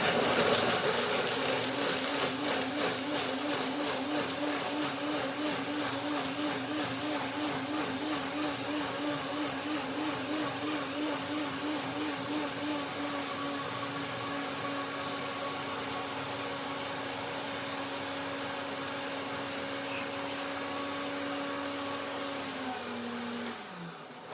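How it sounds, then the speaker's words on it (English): A blender runs continuously with a steady whirring drone that wavers slightly at first, then evens out before cutting off at the end. "The sound of the blender is now even."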